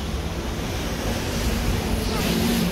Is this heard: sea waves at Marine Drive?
yes